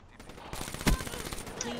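Gunfire in the video game Black Ops 3, with rapid bursts of shots and one sharp loud report near the middle, set under faint background noise and brief voices.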